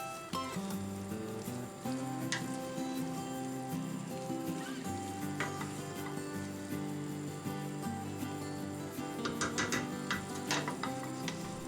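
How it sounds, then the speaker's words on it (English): Beef mince sizzling and frying in a pan while being stirred constantly, a steady broadband crackle with scraping stir strokes throughout and no talk. "After a couple of minutes of constantly mixing, the mince turns a light brownish in colour and starts to separate"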